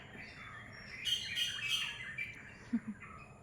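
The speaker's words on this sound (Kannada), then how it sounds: "ಪಕ್ಷಿಗಳೆಲ್ಲ ಕೂಗ್ತಾ ಉಂಟು" Faint birds calling, a brief cluster of high chirps and tweets in quick succession, followed by a couple of lower calls, against a quiet background.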